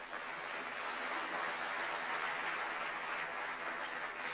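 Steady, distant audience applause filling a large hall at a Dutch political party congress in the RAI Amsterdam, a broad even wash of clapping with no pauses.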